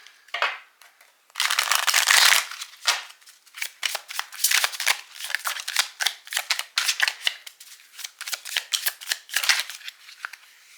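A deck of cards is shuffled close up during a tarot-style card reading, with crisp riffling bursts and quick papery snaps and flicks in an uneven rhythm, no voices.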